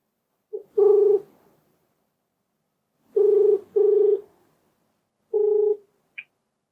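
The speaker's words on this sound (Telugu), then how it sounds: "ఒకసారి కాల్ చేస్తానండి" Placing a phone call: a few short, buzzing tones sound alone, a single one, then a pair, then another, separated by silent gaps.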